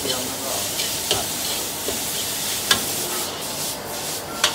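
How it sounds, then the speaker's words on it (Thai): Chili and garlic stir-fried in hot oil for Thai pad kaphrao, a soft steady sizzle broken by scraping stirs and a few sharp clacks of the spatula, heard close in a kitchen. "น้ำมันพริกกระเทียมแล้วก็ผัด"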